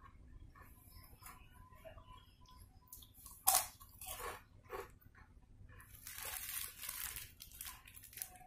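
Cirebon shrimp crackers being bitten and crunched up close, with a sharp loud crack near the start followed by repeated crisp chewing crunches in bursts, no talking.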